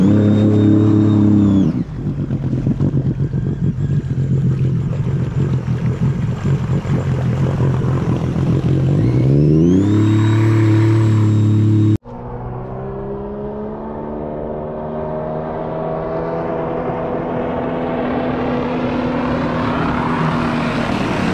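A Sea-Doo GTX Stage 3+ jet ski engine on a test run with the seat and rear fitted, revving hard in a loud, sustained roar, dropping off abruptly, then climbing again in a rising high-pitched whine.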